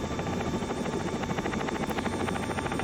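A training helicopter in flight gives a steady, loud rotor drone with a dense buzzing hum that holds constant throughout, with no voices.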